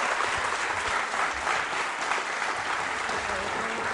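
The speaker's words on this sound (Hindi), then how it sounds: "तालियां जोरों से बजाएं उनके सम्मान में।" A school audience at a quiz show claps steadily, a thick continuous roll of many hands at fairly close range, with faint voices murmuring underneath.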